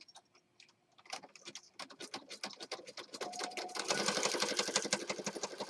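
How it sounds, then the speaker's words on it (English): A sewing machine stitches around a shape on a Christmas journal page, starting as slow, separate clicking stitches and speeding up into a dense, rapid rattle. The sound is close and loud, with no talk. "I'm going to stitch around the green blob here."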